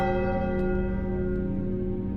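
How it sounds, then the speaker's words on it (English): A bell tolls in the Enigma of Fear video game inside a cursed spiral castle, a single sustained, resonant ringing tone that hums steadily and fills the space. "who's ringing the bell?"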